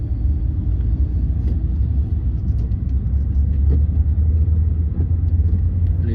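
A car's engine runs during a driving lesson, making a steady low rumble from inside the cabin that swells slightly as the accelerator is pressed, with no talking.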